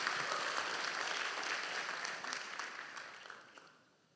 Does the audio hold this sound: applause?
yes